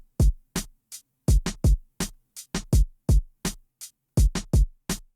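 Boom bap drum pattern in a hip-hop beat, punchy low kicks interlocking with crisp snare cracks in a steady groove, loud, close and dry with nothing else playing.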